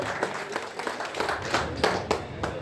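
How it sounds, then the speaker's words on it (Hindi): A crowd claps and applauds steadily, a soft, even patter of many hands heard from some distance. "जोरदार तालियों के साथ अनिल मोहरी का व्यक्तित्व तो देखो।"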